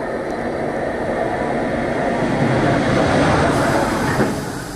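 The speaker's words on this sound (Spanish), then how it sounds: "Acá está el tren que nos dejó" A Czech train rolls past, a steady, loud rumbling roar with a faint rhythmic rattle heard from close by, holding level before easing slightly at the end.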